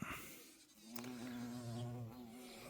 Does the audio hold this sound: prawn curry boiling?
no